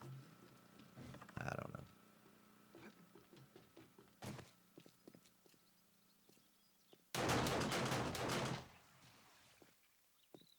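Auto turrets in the game 7 Days to Die fire during play, heard as scattered thumps and short bursts, then a dense loud volley lasting over a second near the end, with quiet stretches between.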